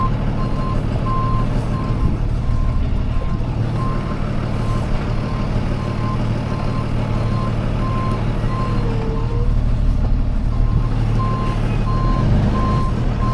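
A truck's reversing alarm beeps at a steady, regular pace for the whole stretch, sitting over a constant low engine idle and road noise at moderate distance.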